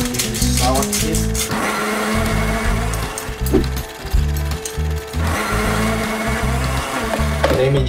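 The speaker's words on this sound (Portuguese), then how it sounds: "Vamos acrescentar aqui no liquidificador." A kitchen blender purees cooked baroa potato with pepper and salt, its motor grinding loud and close in uneven surges and choppy pulses as the thick mixture churns.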